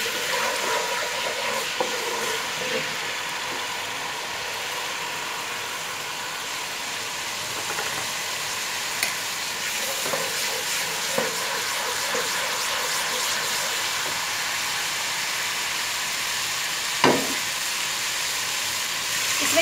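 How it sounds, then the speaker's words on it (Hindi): Garlic ginger paste fries in two cups of hot oil for a Lahori beef trotters dish, giving a steady, soft sizzle with occasional faint clinks, with no talk. "दो कप तेल ऐड कर देंगे। जैसे तेल गर्म होगा उसमें आपने लहसुन अदरक का"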